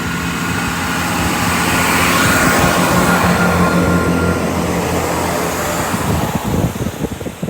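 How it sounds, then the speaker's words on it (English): A Great Western Railway Class 165 diesel unit departs Filton Abbey Wood station on a Bristol Parkway to Bristol Temple Meads service, producing a steady, close engine and rail roar that swells and then breaks into rhythmic clatter as it pulls away. "departing now will be the 1840 Great Western Railway service from Bristol Parkway to Bristol Temple Meads"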